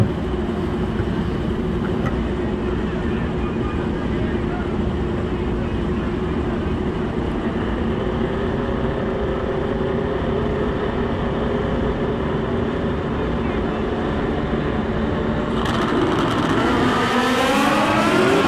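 ZX10-based KZ Power drag bikes race down the strip at a drag racing finals event, a loud, sustained engine roar that stays dense and continuous, with a rising whine near the end.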